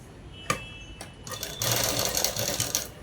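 A sewing machine stitches a trouser pocket, starting with a few separate clicks as the needle moves. It then settles into a steady, rapid mechanical chatter up close.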